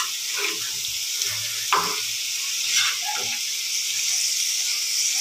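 Fish frying in a pan gives a steady bright sizzle throughout, with a few soft clinks and stirring knocks underneath.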